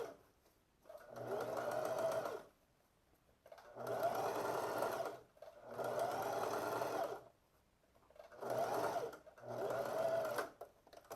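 A sewing machine stitches a pocket seam on pleated shorts in about five steady bursts of a couple of seconds each, a close, even whirring hum with short pauses between runs.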